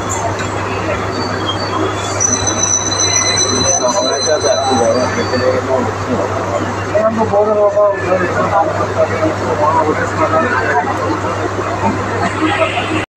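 Steady low rumble of a passenger train running from Bardhaman toward Katwa station, a constant drone with murmured chatter of riders around it and brief squeaks, loud and continuous throughout.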